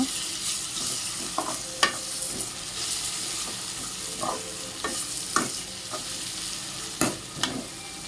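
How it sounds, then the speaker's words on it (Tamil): Onions and tomatoes sautéing in a pan for egg idiyappam, with a steady close sizzle and frying hiss broken by scraping stirs and sharp spoon knocks against the pan, no talk. "ரெண்டு தக்காளி இதை ஆட் பண்ணிவிட்டு கொஞ்சம் வதக்கிக்கோங்க"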